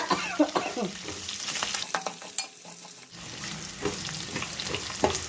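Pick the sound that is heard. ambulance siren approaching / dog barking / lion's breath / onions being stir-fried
onions being stir-fried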